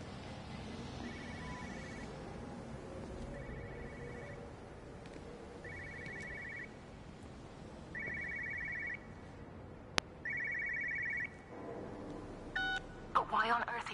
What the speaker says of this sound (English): Aha, I hear a phone.